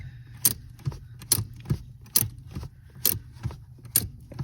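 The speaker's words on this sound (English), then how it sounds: "a 3/4 ratchet wrench, and I get 2 gear teeth clicks" A 3/4 ratchet wrench turns a 5/8 spark plug socket with a short pull-and-return rhythm, giving sharp clicks about every second, up close and alone.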